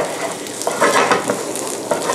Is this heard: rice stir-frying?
yes